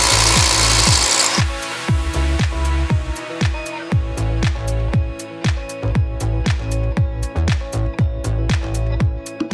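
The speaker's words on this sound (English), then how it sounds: "we're just going to use the rotor hammer here, and we're going to drill in with this 1/2 by 6 wedge anchor" A rotary hammer drills into a concrete floor for a 1/2 by 6 wedge anchor while a lathe is set up. A short noisy burst gives way to loud, rapid, evenly spaced pounding that continues throughout.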